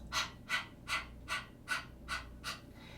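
Yoga breath-of-fire panting: seven quick, evenly spaced breathy puffs, like a dog panting, fairly quiet and close with nothing else heard.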